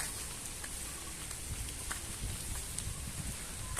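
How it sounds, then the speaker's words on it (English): Light rain falls steadily outdoors at a river research institute in a nature area, a soft, even hiss with scattered faint drop ticks and no voices. "But also there is a light rain."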